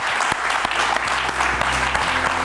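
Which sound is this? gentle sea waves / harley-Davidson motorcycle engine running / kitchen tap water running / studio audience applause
studio audience applause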